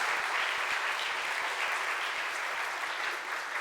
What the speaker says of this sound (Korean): 우리 뜨겁게 한번 박수와 격려를 보내줍시다.